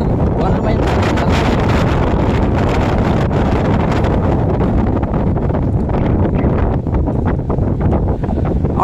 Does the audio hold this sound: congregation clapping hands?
no